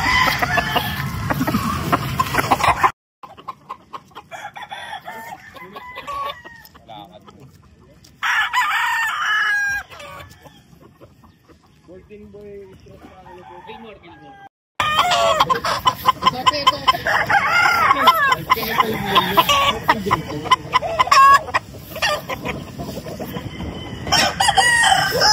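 Roosters crow repeatedly and hens cluck nearby, loud and persistent, with stretches of quieter farmyard noise in between.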